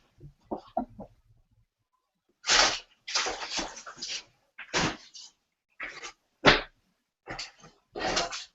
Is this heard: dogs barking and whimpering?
yes